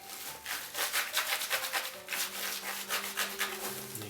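Hands pressing and compacting sushi rice, soft rhythmic rubbing and squishing pulses repeating close up and quiet, with no talk.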